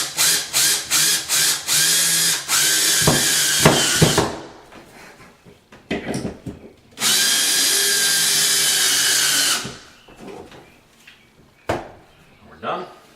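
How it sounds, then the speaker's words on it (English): A power drill drives drywall screws while a drywall hole is patched, with several short high whining bursts and then a long steady run up close, separated by clicks, handling noise and brief talk. "we'll drive our drywall screws in"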